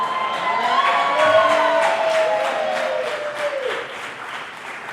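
Live podcast audience in Seattle cheering and applauding, a dense sustained crowd roar with clapping and whoops across the whole stretch, loud and close, easing slightly toward the end.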